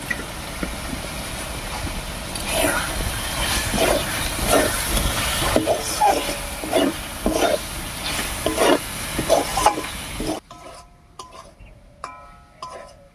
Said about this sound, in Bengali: মশলার সঙ্গে পনিরগুলোকেও খুব ভালোভাবে কষিয়ে নিয়েছি